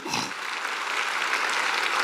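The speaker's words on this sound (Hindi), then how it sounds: "मैं चाहूंगा इनके लिए एक जोरदार तालियां।" A crowd bursts into steady applause, dense and continuous clapping that holds at a fairly loud level throughout.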